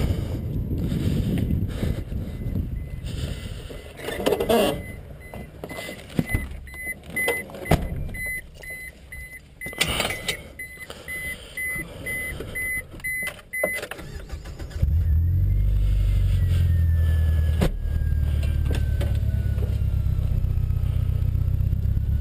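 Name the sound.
1998 Mazda 626 car driving off on a test drive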